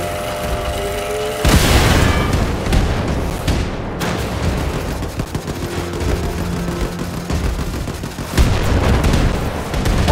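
Explosions and gunfire in the shooter Wolfenstein 2: The New Colossus, a sharp loud blast followed by rumbling combat noise and scattered shots, with another strong burst later.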